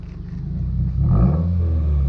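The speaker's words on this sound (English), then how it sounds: "All you can hear, dude, is turbo sound at the end." Turbocharged Subaru WRX with its muffler deleted, revving loudly up close as a deep exhaust rumble swells midway, a faint turbo whistle riding on top.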